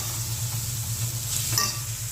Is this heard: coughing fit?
no